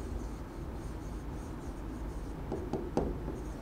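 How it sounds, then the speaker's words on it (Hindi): Chalk or marker scratching across a classroom board during a physics lecture, a few short strokes near the end over a steady background hiss, with no talking. "दोबारा लिख देता हूं"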